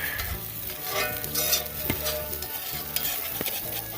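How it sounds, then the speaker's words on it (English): Food stirred in a hot pan, with a constant loud sizzle and frying hiss under scraping stirring strokes, all close by. "Try and get it good and stirred up."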